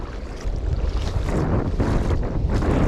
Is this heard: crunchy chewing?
no